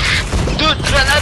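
A grenade explodes in a video game, a loud booming burst layered with rumbling blast noise, while players shout over it.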